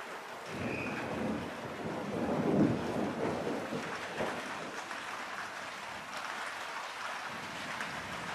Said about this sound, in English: There's been some really good peals of thunder.